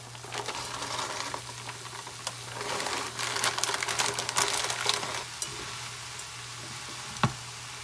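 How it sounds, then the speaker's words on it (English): Frozen mixed vegetables tumble into a hot cooking pot over cooked-down filling for a veggie pot pie, a loud rustling sizzle and clatter that settles into steady frying with a low hum beneath. "now that it's cooked down, I'm gonna add 2 bags of these mixed veggies."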